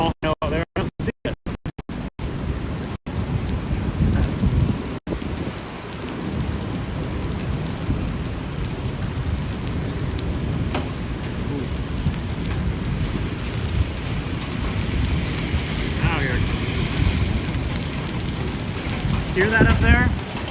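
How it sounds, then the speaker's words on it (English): Small hail and heavy rain pelt a chase vehicle in a Wisconsin tornadic thunderstorm, a constant close hiss and patter with occasional sharp ticks, briefly cutting in and out at the start. "I hear some small hail out there."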